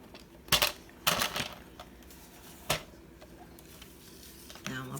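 Scissors cut through a piece of cardstock in a few crisp, close snips spaced out over quiet, ending in a lighter sliding rustle.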